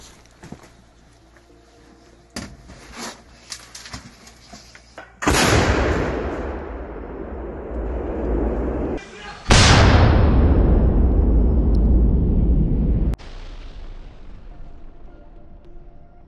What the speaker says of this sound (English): Russian artillery units are shelling the positions of the Ukrainian armed forces with intense fire.